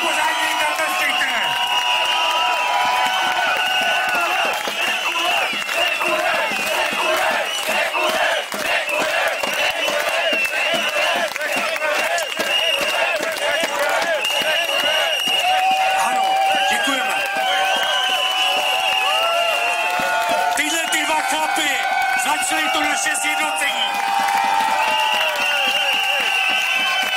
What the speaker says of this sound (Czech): Ještě jednou pořádně jim zatleskejte